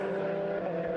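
Race car in the Fun Cup endurance championship at Oulton Park, its engine a steady, loud, sustained drone as it comes through past the trackside microphone, with no voices.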